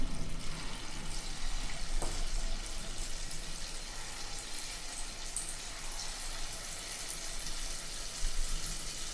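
Small spoonfuls of punugulu batter frying in hot oil, a dense, steady crackling sizzle that fills the whole stretch without pause, close and moderately loud.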